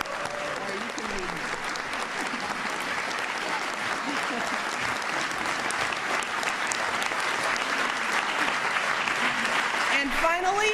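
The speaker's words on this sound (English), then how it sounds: "So let's give them a round of applause." Audience applause at the First Lady's farewell speech, a dense sustained ovation filling the whole stretch, loud and steady.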